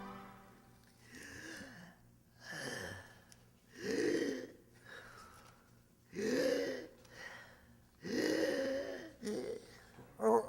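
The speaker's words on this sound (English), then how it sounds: "I'm training for the fight, Eddie. I gotta do me breathing exercises." A man does breathing exercises while training for a fight in a comedy radio show. Loud, voiced huffs and exhalations repeat roughly every two seconds, close and alone.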